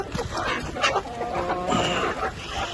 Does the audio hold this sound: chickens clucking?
yes